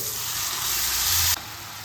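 Tomato paste hits hot oil with turmeric and Kashmiri chili powder already in the pan, giving a loud, dense, close sizzle that holds steady, then drops suddenly to a quieter hiss near the end, with no talk.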